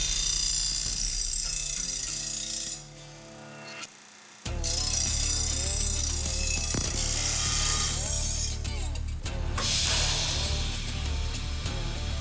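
A powerful grinder in a car shop working on a Hemi-swapped 1955 Chevy Bel Air gasser makes loud, sustained mechanical whirring and rattling, drops away briefly near the middle, then surges back harsh and continuous.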